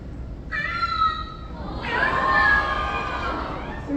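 A pet cat named Benjamin's meow, recorded onto a sound button and played back: a drawn-out, slightly tinny meow followed by a second, louder rising meow, over a bed of crowd noise.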